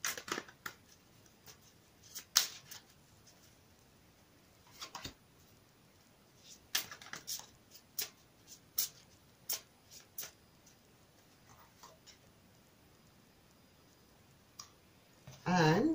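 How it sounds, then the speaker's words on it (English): Romance angel cards are shuffled and handled nearby in a quiet room, a scattered series of sharp, faint clicks and riffles, ending in a brief louder flurry. "I'm also going to give you a couple of romance angel cards, and I've already pre-shuffled these, but give them another quick shuffle for you on screen."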